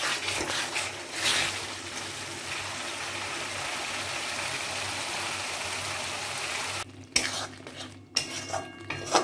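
Ginger and garlic being sautéed in a pan for a Bengali-style homemade chicken curry, heard as a steady hiss with a spatula clattering and scraping against the metal near the end.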